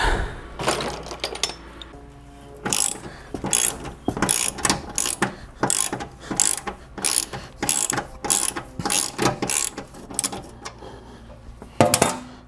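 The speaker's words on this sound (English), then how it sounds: "We're gonna move to a ratchet." A 1/4-inch ratchet wrench turns a bolt on a 1999 Yamaha G16 gas golf cart, loud rapid clicking bursts in repeated strokes separated by short pauses, close up, no talk.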